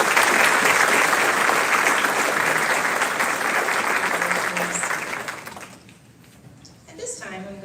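A large crowd applauds graduating students at a school class day ceremony, a loud sustained roar of clapping that tapers off before a voice resumes speaking.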